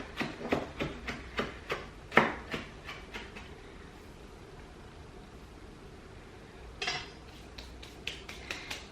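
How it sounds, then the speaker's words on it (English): Parsley is roughly chopped with a knife in quick, sharp rhythmic taps on a board, a busy burst at first, then a pause, then another run of chops near the end. "just really roughly chop this"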